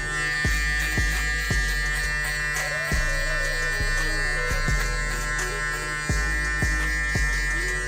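Electric hair clippers buzz continuously while debulking hair during a high taper haircut on a client with braids, a steady drone punctuated by repeated sharp clicks or taps at irregular intervals, with no voices.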